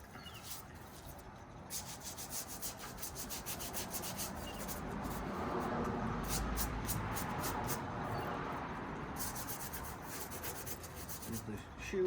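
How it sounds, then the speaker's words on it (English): A brush scrubbing dirt off a thrifted shoe, producing continuous close, rough rubbing strokes that swell and fade in rapid back-and-forth rhythm, with brief clicking bursts mixed in and no talk. "You just saw me scrub that with a brush"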